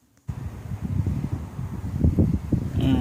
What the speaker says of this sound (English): It's still windy as heck.